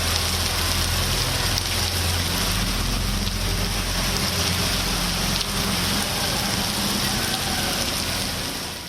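Record-breaking heavy rain pours down in Delhi, a dense, loud, unbroken roar of falling water with a low rumble underneath, likely from traffic, lasting several seconds without speech.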